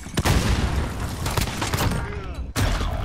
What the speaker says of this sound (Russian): С мида стреляю.